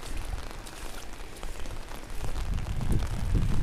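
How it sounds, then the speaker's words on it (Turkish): Heavy rain falls on tents in Adıyaman Gölbaşı during a flood, a dense, steady hiss of drops close by that grows louder toward the end. "yağmur suları çadırları etkilemiş durumda."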